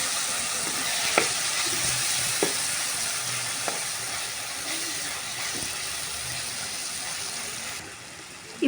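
Cauliflower curry with tomato simmers in a covered pan, giving a steady, soft frying sizzle throughout with a few faint clicks and no voices.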